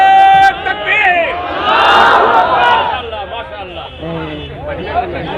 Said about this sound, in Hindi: मजमे में से कोई नौजवान नारा लगा दो